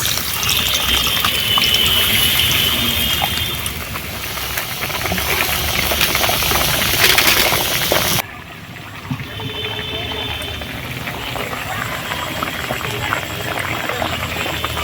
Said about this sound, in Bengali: এবারে তেঁতুলটা চটকে এবারে এই টক জলটা দিয়ে দিই